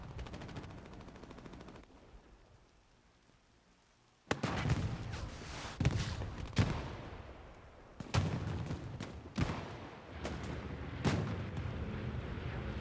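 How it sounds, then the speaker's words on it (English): Bombing run in the World War II shooter game Hell Let Loose on a D-Day map: several loud, sharp explosive booms with rumbling tails arrive in irregular succession after a quieter stretch of distant low rumble. "Not sure whose bombing run this is coming in."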